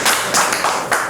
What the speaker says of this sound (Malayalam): നന്നായി. കൈയടിക്കേ.